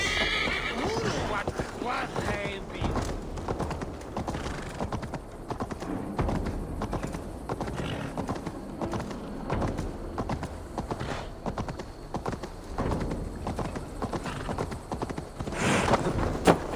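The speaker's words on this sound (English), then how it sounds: "Stop that horse!" Horses neigh and whinny with galloping hoofbeats, loud and busy throughout, in a battle scene from the video game Assassin's Creed Valhalla, with voices shouting among the din.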